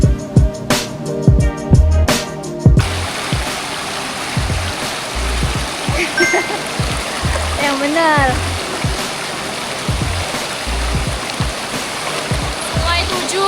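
A river stream along the forest trek to Curug Cisadane waterfall rushes steadily throughout, with loud footsteps and handling thumps at the start and people talking briefly over the flowing water.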